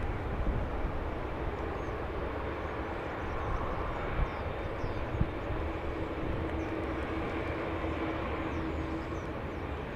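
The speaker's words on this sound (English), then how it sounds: "So a couple of Dreamliners on your screen." Boeing Dreamliner jets taxi at Los Angeles International Airport, heard as a steady distant engine roar and broad rumble that holds level throughout, with no voices.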